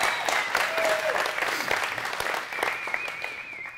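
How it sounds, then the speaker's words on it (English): A seminar audience at a strength-training event bursts into sustained clapping that stays dense and even for a few seconds, with a few faint cheers mixed in. "Give him a round of applause, please."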